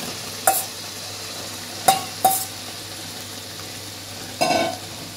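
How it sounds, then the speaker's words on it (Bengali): Fried potatoes and soya chunks sautéing in spice masala, a low steady sizzle broken by four short bursts of spatula scraping and stirring against the pan. "ভালো করে কষিয়ে নেব।"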